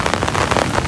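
Heavy rain pours on Kabaragala mountain during a camping hike, a dense, steady hiss of drops drumming on surfaces, loud and close with no pauses.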